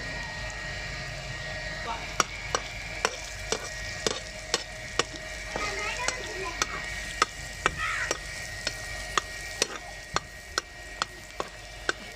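A spoon stirs mustard greens saag with a little coriander in a pan, giving a steady run of regular close scraping taps over a soft, continuous sizzle.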